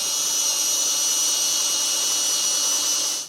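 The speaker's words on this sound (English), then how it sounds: "We're just going to be drilling out the side holes into our beam" A loud, steady high-pitched whine of a power drill boring holes into a steel beam while installing a base plate on a 2013 Mini Cooper, running continuously before cutting off at the end.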